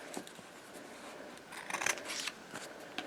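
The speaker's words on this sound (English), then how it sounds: "So use your heavy duty scissors and just cut." Heavy scissors snip through fabric close by, a few soft crunching cuts with a louder rasping stretch in the middle.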